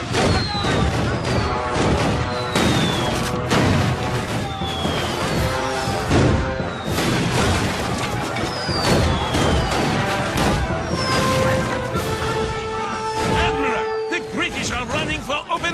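Cartoon naval battle with cannon fire, dense booms and crashes mixed with a continuous musical score and shouted voices throughout.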